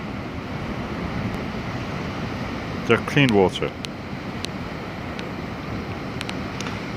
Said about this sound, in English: Look at the sea. It's blue and green, clean. You can see it. Look at the waves.